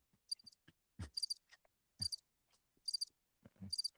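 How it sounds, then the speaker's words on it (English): Radio-show cricket sound effect: brief, high chirps repeat in small clusters roughly once a second, clear against near silence with faint low thumps between them. "I was hoping you were about to hit the cricket sound"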